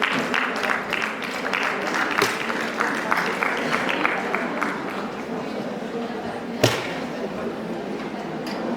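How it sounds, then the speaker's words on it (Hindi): A crowd at a Hindi ceremonial gathering claps in scattered, uneven bursts with murmuring voices and chatter mixed in, plus a sharp thud partway through. "तालियां बनती हैं।"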